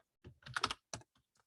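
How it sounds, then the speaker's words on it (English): Short burst of typing on a computer keyboard, a quick cluster of close, crisp key clicks followed by a few lighter taps, otherwise quiet. "I'm gonna type in the word gods."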